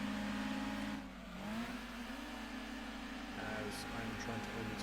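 Racing car engines in Gran Turismo 2 during an overtaking attempt, with steady droning revs that dip and rise as gears shift, mixed with other cars nearby and a voice talking over them.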